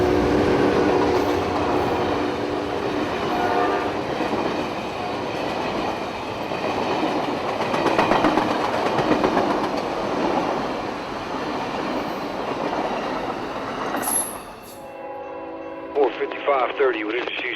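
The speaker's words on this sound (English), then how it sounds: "The short siding, named Longwood, is where we catch Amtrak 97 sprinting into Winter Park." Amtrak 97 passenger train rushing through the short Longwood siding toward Winter Park, Florida, a loud sustained roar with clattering wheels, fading near the end as a radio voice and brief squeals break through.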